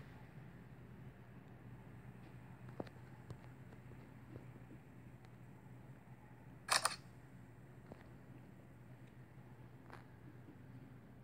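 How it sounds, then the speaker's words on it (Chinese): A single short camera-shutter click from a phone app snapping a photo, sharp and brief over a low steady room hum, with a few faint taps nearby. "接着呢拍照"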